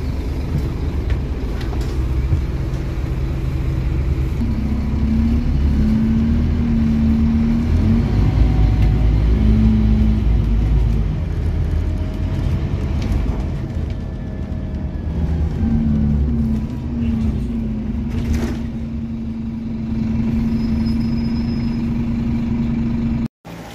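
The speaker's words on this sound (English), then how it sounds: "a happy Scania is a quiet Scania. This is a nice quiet Scania." A Scania bus engine runs quietly with a steady, low idling hum and occasional faint tonal whines, continuous and close throughout.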